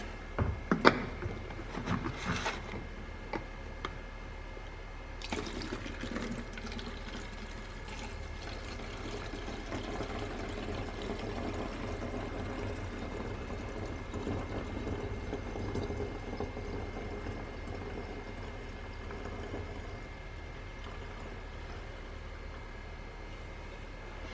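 Homemade car de-icer liquid is poured back into a jug, giving a steady trickling splash that runs for most of the stretch after a few sharp handling clunks at the start.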